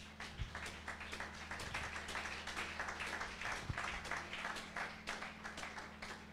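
A church congregation claps and applauds to acclaim the Lord, a steady wash of many hands clapping together throughout, fairly close, with no one speaking over it.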